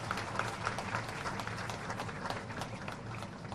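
An audience at a wildlife week launch event attended by the chief minister applauds after a speech, steady crowd clapping that is moderately loud and unbroken from start to finish.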